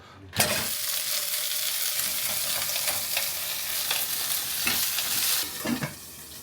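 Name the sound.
frying and stirring food in oil in a pot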